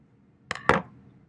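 Scissors cut the foot section off a sock in two quick, close snips, the second one heavier, followed by a faint rustle of fabric in an otherwise quiet room.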